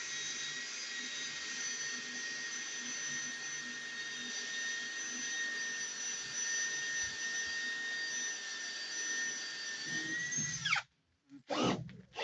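A power drill runs steadily while boring into a warped house structure, a continuous high whine holding for about ten seconds before it stops abruptly, followed by a few brief knocks and clatters.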